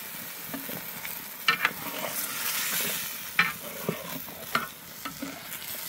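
Onion and chicken meat frying in a pan, a steady soft sizzle broken by several sharp scrapes and clacks of stirring, close and alone without any talk.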